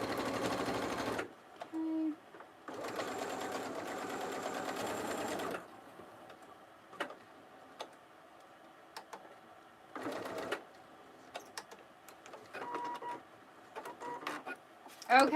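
A sewing machine stitches around a fanny pack in bursts, one long run and a shorter one, with quieter pauses between and a few clicks and handling sounds.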